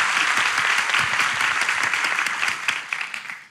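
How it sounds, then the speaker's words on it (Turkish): Warm studio applause from a small audience greets guests on a Turkish talk show, steady and close, then thinning and fading out near the end. "Bir alkış dünya güzeli kardeşlerime."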